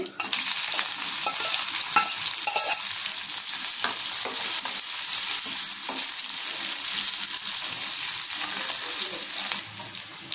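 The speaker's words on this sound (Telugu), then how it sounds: "సన్నగా కట్ చేసి పెట్టుకున్న ఉల్లిపాయ ముక్కలు వేస్తున్నానండి." Chopped onions hit hot oil with cumin and mustard seeds and sizzle loudly and steadily, with occasional stirring scrapes throughout.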